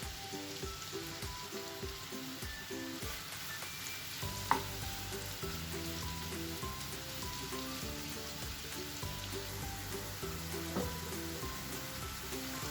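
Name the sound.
prawns frying in a pan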